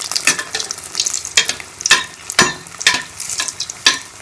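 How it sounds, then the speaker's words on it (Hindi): Kheema rolls frying in hot oil, crackling sizzle with repeated bursts of spattering and stirring, close and loud, no talk. "अब जब हमारा ऑयल गर्म होगा तो हम इसको फ्राई कर लेंगे।"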